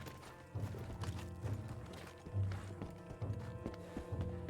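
A horse's hooves clip-clop at a steady trot in the video game Red Dead Online, a quick rhythmic patter of hoofbeats running throughout, fairly close, with no talking.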